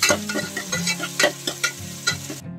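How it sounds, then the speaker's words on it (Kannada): Chopped onion fries in oil in a pan while a spoon stirs it, a steady sizzle broken by repeated scraping strokes against the metal, close and clear, ending abruptly. "ದೊಡ್ಡದು ಉಳ್ಳಾಗಡ್ಡಿ ಹಸಿ ವಾಸನೆ ಹೋಗೋವರೆಗೂ ಸ್ವಲ್ಪ ಎಣ್ಣೆ ಒಳಗೆ ಫ್ರೈ ಮಾಡ್ಕೊಡಿ."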